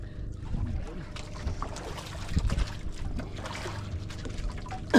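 A boat passing on open water near a fishing spot, its motor rumbling under wind and splashing water, with people talking over it.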